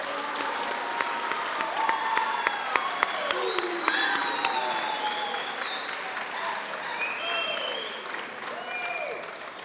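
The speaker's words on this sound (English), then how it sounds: "Please give a round of applause to Cadet Archer Gober." An audience applauds a cadet at a military academy public speaking award ceremony, steady clapping from a crowd with a few whoops, continuing for several seconds and gradually thinning out.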